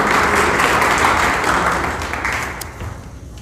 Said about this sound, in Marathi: आपण जोरदार टाळ्या वाजवायच्या।